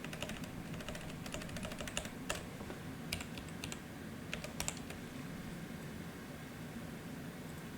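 Rapid, uneven typing clatters on a malfunctioning computer keyboard, with bursts of close key clicks over a steady faint room hiss and no talk.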